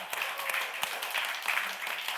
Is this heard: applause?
yes